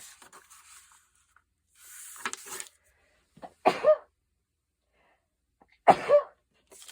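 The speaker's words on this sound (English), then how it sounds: "I think I'm going to sneeze too." A person sneezes twice indoors while crafting with paper, two sharp close bursts a couple of seconds apart, preceded by faint rustling.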